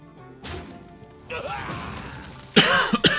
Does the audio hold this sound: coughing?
yes